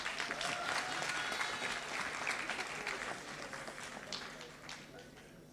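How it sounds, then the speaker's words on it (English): An audience at a long service awards ceremony in Jamaica claps for Mr. Fraser. The applause is dense and continuous and fades slightly toward the end. "Clap Mr. Fraser as he comes."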